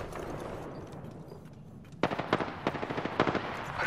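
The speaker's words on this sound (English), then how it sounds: "Shots fired at me." Apex Legends gunfire in a close match: low noisy ambience first, then from the midpoint a loud run of sharp, rapid shots in uneven bursts, each a distinct crack.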